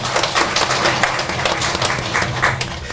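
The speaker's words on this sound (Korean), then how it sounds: "하나님께 영광의 박수 올려드리겠습니다" A church congregation at a worship service bursts into sustained applause, many hands clapping together in a dense, lively roar that holds steady at close range.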